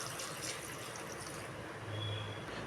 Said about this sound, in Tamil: தண்ணி கொஞ்சம் சேர்த்துறேன்